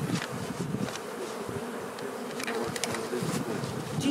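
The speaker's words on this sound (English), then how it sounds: "it seems like there's a lot of bees in each one of those" Dense buzzing of many honey bees hums steadily throughout, a busy swarm close by at hive boxes in an apiary, with no talking.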